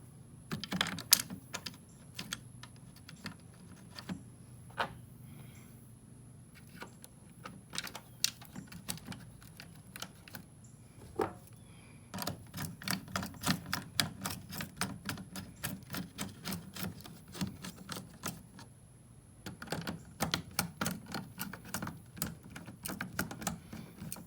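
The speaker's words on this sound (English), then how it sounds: "we'll get our 7mm socket and put these screws back in" A 7mm socket on a ratchet driving screws back into a Ford F150 rear backup camera, giving quiet bursts of rapid clicking separated by short pauses.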